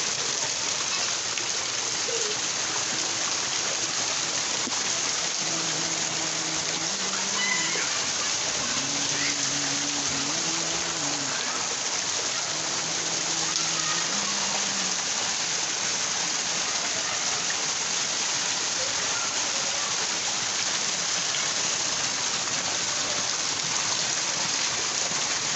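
Heavy rain pours continuously over a city, a dense, steady hiss of drops on surfaces lasting throughout, with a faint tonal hum rising briefly in the middle and no talk.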